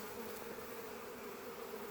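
A steady, dense buzz of many honeybees, continuous and fairly close, with no talking over it.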